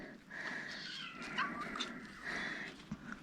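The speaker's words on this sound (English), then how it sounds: "So many cats." Cats meow repeatedly in a farm garage, a few close, fairly loud calls rising over a steady hiss of background noise.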